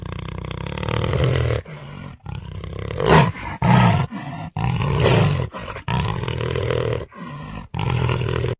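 A jaguar roars repeatedly, loud and close: a series of deep, rasping, growling bursts separated by brief pauses, with no other sounds.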